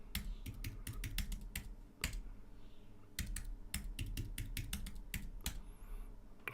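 Fingers type a password on a computer keyboard during an SSH setup, making quiet, crisp key clicks in irregular quick runs with brief pauses and no speech.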